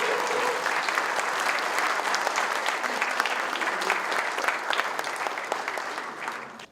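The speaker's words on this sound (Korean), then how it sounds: "다시 한번 큰 박수 부탁드리겠습니다" A large crowd applauds steadily for several seconds at a company awards ceremony, a dense wash of clapping that tapers off at the very end.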